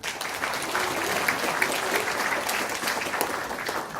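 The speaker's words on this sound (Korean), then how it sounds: "큰 박수 부탁드립니다" Steady applause from a seated audience at a regional council policy forum in Korea's Chungcheong area, continuous and even for about four seconds with no voices on top.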